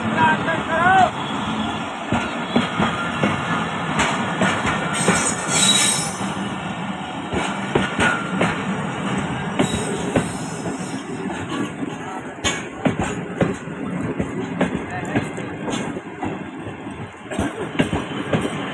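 The Khyber Mail express train pulls out of Raiwind, a steady loud rumble of rolling railway cars with squealing wheels and metallic clatter, while people talk nearby throughout.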